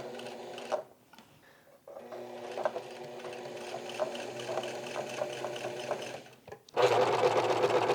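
A sewing machine stitches sleeves and side seams of a garment, giving a close, steady mechanical whir with rapid needle ticking, a brief pause near the start, and a louder burst at the end.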